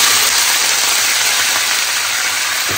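Prawns fry in hot oil, a loud, dense, continuous sizzling hiss that holds steady and close throughout, with no voices over it.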